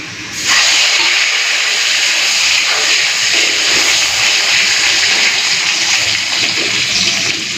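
Food frying in a pan bursts into a loud, dense sizzle about half a second in, then holds as a continuous roaring hiss close to the ear until the end.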